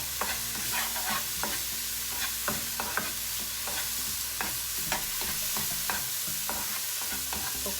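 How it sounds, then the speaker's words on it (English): Mushroom and onion sizzle steadily in a hot pan, with repeated sharp scrapes and clicks of a utensil stirring and tossing the pieces, close and clear, with no talk. "to cook the mushroom and onion"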